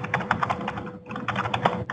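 Fast typing on a computer keyboard, a close run of light clicking keystrokes with a brief pause in the middle before the typing picks up again.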